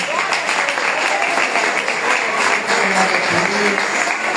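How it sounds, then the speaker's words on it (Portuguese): A church congregation applauds together, a dense, sustained clapping that fills the room at full loudness, with cheering voices mixed in throughout. "Receba com palmas para o Senhor."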